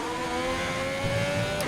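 An F1 race car engine in the F1 2020 video game holds a steady high-pitched whine, loud and continuous with no talk over it.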